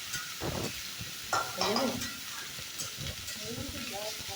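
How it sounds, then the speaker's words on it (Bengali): Green plantain frying in a pan gives a steady, close sizzle with stirring scrapes and clinks, while a person speaks briefly over the cooking. "কাঁচা কলাটা ভেজে নিতে লাগবে"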